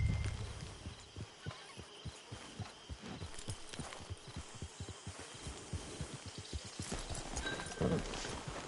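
Horse hooves in the Red Dead Redemption Online video game, a steady run of clip-clop steps thudding close and clear at a walking pace over low ambient noise.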